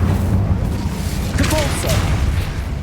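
An Incendio fire spell goes off in the game Hogwarts Legacy as a loud, dense roaring rumble that fills the whole moment, with a brighter whoosh rising near the middle.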